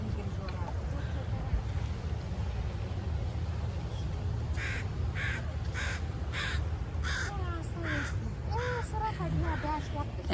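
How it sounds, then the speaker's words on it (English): A crow caws repeatedly at a beach on Point Grey Road in Vancouver, loud harsh calls coming in a run over steady wind and lapping water, with a person speaking beneath. "our friendly crow says"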